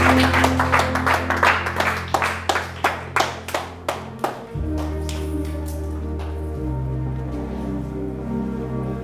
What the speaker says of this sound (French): Qui peut acclamer le Seigneur de gloire?